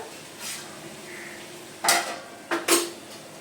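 A cooking pot of gourd is lifted off a home kitchen stove, giving a few sharp metallic clanks and scrapes in quick succession near the end, with a faint knock earlier and quiet room background.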